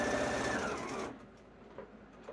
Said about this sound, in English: Really simple to do if you're new to machine quilting on your sewing machine.